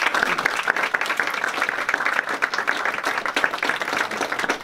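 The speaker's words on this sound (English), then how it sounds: "So one more time, just round of applause." An audience claps at a congressional briefing on foster youth, a dense round of applause that stays strong throughout, with sharp individual claps in a room.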